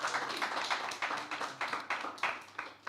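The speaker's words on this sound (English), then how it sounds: "So I think that deserves a round of applause as well." Church congregation applauds during a live service, a moderate, fairly quiet patter of hands with uneven bursts throughout, no speech over it.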